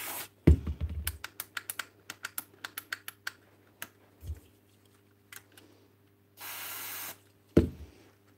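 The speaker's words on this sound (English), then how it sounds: "a contact cleaner might cure it" Contact cleaner sprayed into a power tool switch, a single steady hiss lasting about half a second amid many close clicks and taps from handling the tool.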